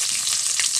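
Chopped onion hitting hot oil for a jackfruit curry, giving a bright, dense sizzle that stays steady and close for a brief moment.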